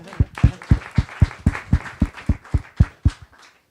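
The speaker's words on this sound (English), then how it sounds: "You can applaud for yourselves." Audience members at the EHA 2018 conference clap in a rhythmic, unison pattern, about a dozen sharp, evenly spaced beats close and fairly loud, then tapering off, with no talk.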